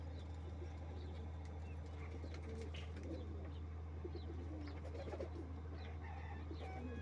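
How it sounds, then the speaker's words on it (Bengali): Pigeons kept in a small, crowded loft coo softly and steadily, with faint rustling and shuffling over a constant low hum and no voices. "দেখেন ছোট্ট জায়গার ভিতরে কতগুলো কবুতর পালতেছে"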